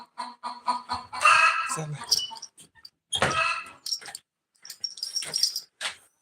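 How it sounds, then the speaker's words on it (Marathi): Free-range desi chickens on a poultry farm cluck and call in short bursts, close by, with pauses between the calls and a few bird chirps mixed in. "कोंबडीचा कोकुक चालली"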